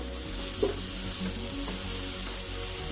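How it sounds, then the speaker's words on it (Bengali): Cauliflower pieces with turmeric frying in a pan for chops, a steady soft sizzle with faint stirring scrapes under low background hum. "দিয়ে নাড়াচাড়া করে ভেজে নিলাম"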